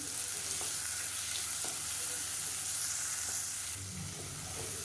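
Onion and tomato sauté in a pan with a steady, even sizzle that stays continuous and fairly soft throughout, with only faint stirring movement and no talk.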